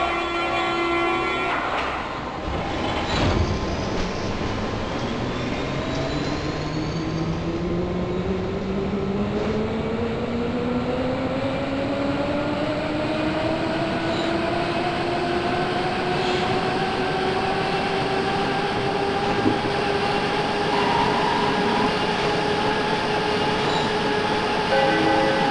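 A Berlin U-Bahn line U2 subway train pulls away from the platform, its motor whine rising steadily in pitch while wheels rumble and rattle continuously up close.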